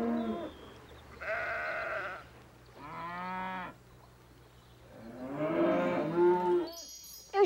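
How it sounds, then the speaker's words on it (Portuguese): Dairy cows on a farm let out several long, drawn-out moos in turn, fairly close and clear, separated by quiet pauses with a low background hum and no talk. "Também deve ter umas 10 vacas leiteiras."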